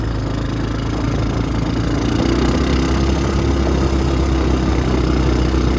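The engine of a 1997 Honda Recon 250 ATV, revived after sitting outside for 15 years, runs in third gear with a loud, steady, close drone that holds constant throughout.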